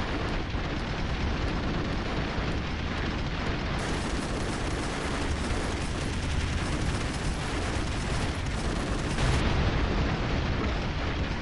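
Constant explosions in the video game Broforce, heard as a dense, loud wash of overlapping blasts and crackling booms that runs without a break, with no talking over it.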